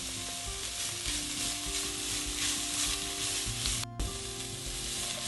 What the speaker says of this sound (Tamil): இதையும் நான் இதுக்கெல்லாம் போட்டு வதக்க போகிறேன்